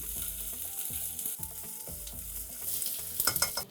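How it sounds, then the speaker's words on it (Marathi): Sliced onion sautés in a pan until golden for aloo matar pulao, a steady sizzle with occasional stirring scrapes and a low tonal hum running underneath. "कांद्याला छान तांबूस होईपर्यंत परतून घेऊया."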